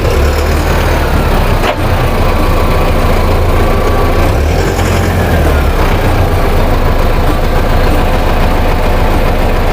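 Mahindra tractor diesel engine idling nearby, a loud, steady low rumble with an even chugging pulse that holds throughout, heard alone with no talking.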